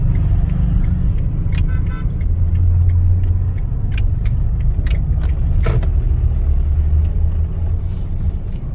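A car drives into the parking area of Hotel Mercure Pontianak, steady low engine and road rumble close by throughout, with light rattles and faint clicks, easing slightly at the end.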